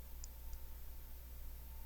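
Two faint computer mouse clicks sound early on, spaced about a quarter second apart, while someone works in CAD software to rotate a pipe fitting. A steady low hum from the room and equipment runs underneath.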